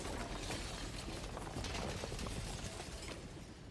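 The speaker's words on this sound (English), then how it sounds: "And then, the shattering." A shattering sound effect from the video game Slay the Princess, a dense, loud, sustained crackling and grinding wash that holds steady for several seconds before thinning slightly at the end, with no speech.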